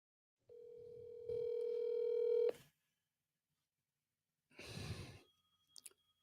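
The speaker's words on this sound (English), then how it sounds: "Oh, now it's finally ringing." A steady electronic tone sounds twice in a row, stepping up in loudness, then cuts off; after a pause comes a breathy burst and a few faint clicks.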